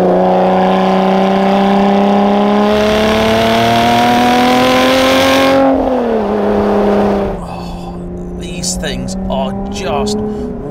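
Lotus Evora GT410 Sport with a Toyota V6 engine, loud and close, holding a steady drone that climbs in pitch as it revs, then drops back to a lower idle-like note. A voice talks over the engine throughout.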